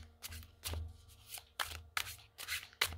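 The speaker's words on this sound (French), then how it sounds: "On va bien le mélanger." A tarot card deck is shuffled by hand in a few quick riffling bursts, close and soft, with brief pauses between each pass.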